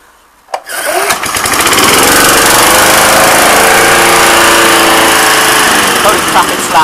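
A new lawn mower engine catches after a sharp pull and settles into a loud, steady, buzzing run close by, holding a constant roar for several seconds.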